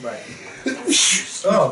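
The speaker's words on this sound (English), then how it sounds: "bless you. Thank you. I know I didn't cover my mouth." A single sneeze bursts out mid-conversation, uncovered and aimed toward the ground, between short spoken words from a person nearby.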